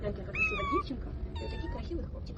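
Small kittens at a cat shelter in Kyiv meow with a few high, drawn-out cries, clear and close, while someone speaks over them.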